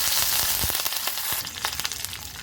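Dried red chilli and curry leaves hit hot ghee with mustard seeds and urad dal, setting off a loud, close, continuous sizzle with small crackling pops, with no voices over it.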